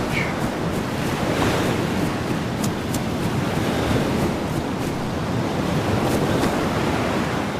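Steady beach surf washes in a constant roar with a breezy wind-like hiss in the video game DayZ, even and moderately loud with no talk.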